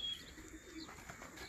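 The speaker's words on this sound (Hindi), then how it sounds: "5:08 पे बकायदा कबूतर उड़ाए गए हैं।" Released pigeons coo and flutter faintly in open air, with soft wingbeats and bird calls over a quiet outdoor background.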